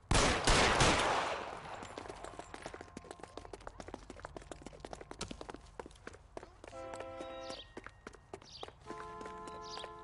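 In L.A. Noire, gunfire opens with a loud burst of shots, then continues as scattered sharp cracks mixed with footsteps and faint music tones, moderately close.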